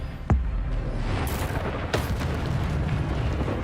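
A spell cast in Hogwarts Legacy, Expelliarmus, gives a few sharp bursts, the strongest near the start and another midway, over a steady rumbling game backdrop.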